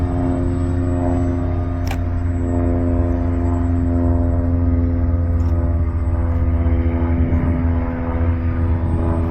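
An FMS F16 64mm EDF radio-controlled jet making a touch-and-go pass, a steady loud ducted-fan whine with a sustained tonal drone that holds throughout, close and alone with no talk.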